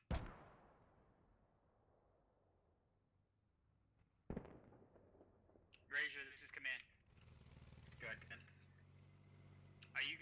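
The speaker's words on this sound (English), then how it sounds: "guys getting hit by mortars" Mortar impacts and explosions in the video game Squad: a sharp blast opens, followed by a long fading rumble, another distant boom, then bursts of crackling radio chatter and talk over the battlefield.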